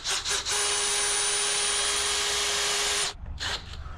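A power drill with a Tapcon bit, used without hammer mode, whines steadily at close range for about two and a half seconds after a few short bursts, then stops abruptly and gives a brief final pulse.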